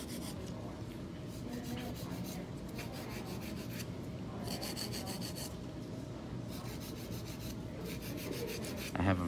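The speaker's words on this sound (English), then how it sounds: "we're gonna go through and just file out the shape a little bit, get it nice and crisp" A nail file shapes and tapers gel nails, giving rapid bursts of close, scratchy rubbing strokes with short pauses between passes.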